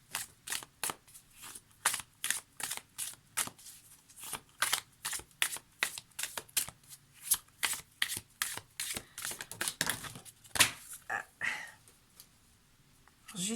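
Oracle cards shuffled and gathered up by hand after falling to the floor, a rapid run of close, crisp slaps and riffles with a few faint voice sounds between them.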